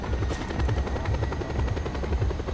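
Aircraft engine in the video game Just Cause 2, a loud, steady droning roar with a chopping, rotor-like pulse throughout.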